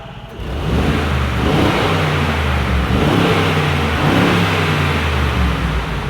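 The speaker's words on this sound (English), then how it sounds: "these two vehicles sound fantastic because they do have V8s" A big V8 engine in a luxury off-road SUV revs hard and holds high, a loud, steady roar with a rumbling low end, heard close up.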